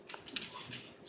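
Dogs whimpering and crying indoors, soft high-pitched whines repeating in short bursts, fairly faint and close, with no talk.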